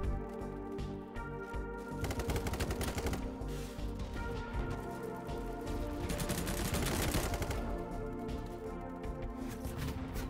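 ACR assault rifle fire in Battlebit Remastered, rapid automatic bursts rattling loudly and continuously, the dense string of shots pausing only briefly between sustained volleys.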